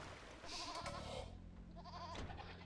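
Sheep in Age of Empires 2 bleat twice in short wavering calls, fairly quiet against a busy game soundscape with no speech.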